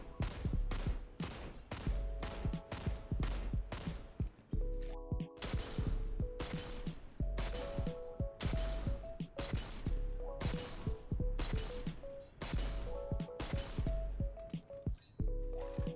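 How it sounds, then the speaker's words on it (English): True Prophecy hand cannon in Destiny 2 fires a steady series of loud, sharp, booming shots in quick rhythm, with mechanical ringing between bursts and no talk over it. "we have the True Prophecy hand cannon"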